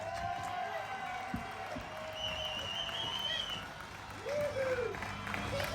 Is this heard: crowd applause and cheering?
yes